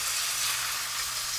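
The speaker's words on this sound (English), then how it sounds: "Carefully place your seasoned chicken breasts into the hot pan. They should sizzle when they hit the oil." Seasoned chicken breasts sizzle in hot oil in a pan, a steady, close, loud frying hiss with no talking.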